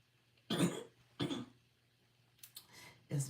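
Three sharp coughs, two close together early and another near the end, with quiet gaps between them.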